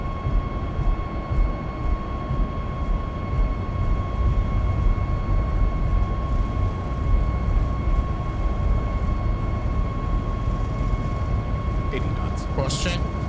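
A Boeing 737 MAX 8 in X-Plane 12 rolls down the runway on takeoff, its engines giving a loud, steady roar with a constant whine, while someone talks over it.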